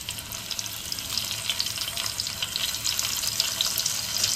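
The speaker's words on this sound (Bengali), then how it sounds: "হয়ে গেছে, এবার ফুলকপিটা ভাজা বসাচ্ছি।" Cauliflower rubbed with salt and turmeric frying in white oil, a close, steady crackling sizzle with fine spattering pops that grow slightly louder, no talk.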